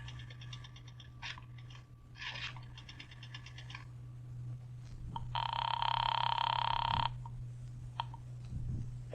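An old-style telephone ringing down the line after a nickel is dropped into a drugstore payphone and a number dialed: two clear ring bursts, then a long, loud steady tone, with other faint tones over a low hum.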